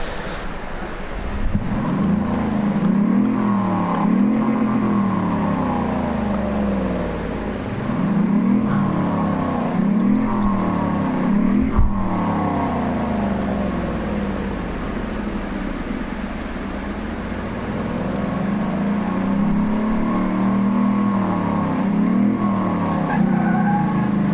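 A racing car engine in Car Mechanic Simulator revs up and down repeatedly, its pitch sweeping high then dropping between gear shifts, loud and steady throughout with no voices.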